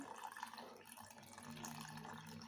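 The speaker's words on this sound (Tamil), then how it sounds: "இப்போ நம்ம எடுத்து வச்சுருந்த இளநீர் தண்ணியையும் ஒரு ஒரு டம்ளர் சேர்த்துக்குவோம்" Tender coconut water is poured into a sea-moss jelly mixture, making a soft, faint, continuous trickle and splash of liquid that lasts the whole stretch, with no voices.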